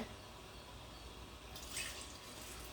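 Water poured into a bowl of urad dal set to soak for idli batter, a soft steady trickle with a brighter splashing burst near the end, faint and close with no voices.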